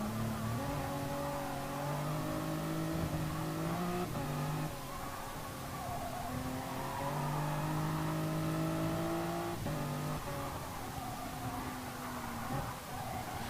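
Race car engines in a racing video game drone steadily and loudly throughout, their pitch rising and falling with shifts between gears, several cars overlapping in a continuous roar with no talk.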